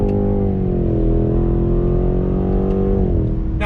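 A 2019 Cadillac CT6-V Blackwing's engine drones loudly and steadily under load from inside the car, its pitch rising and then dropping near the end as the car brakes and downshifts.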